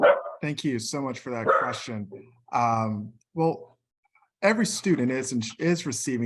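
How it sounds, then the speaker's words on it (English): A pet dog barks a few sharp times during a nonpartisan candidates' election forum, with the barks mixed in among a person's ongoing speech. "excuse my dog, I'm so sorry"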